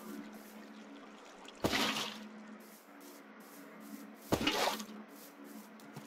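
In the Minecraft video game, water is placed twice, each time a soft splash of rushing water that quickly fades back into a faint steady background hum.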